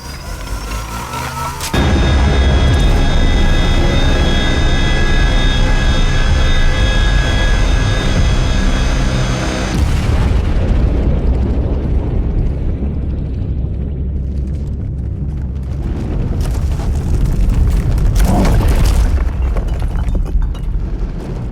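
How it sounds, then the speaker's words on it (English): An energy weapon blast destroys a target in a video game: a sudden, loud, sustained roar like a jet or explosion that rumbles for many seconds, easing slightly before swelling again near the end. "Please secure yourself for energy release."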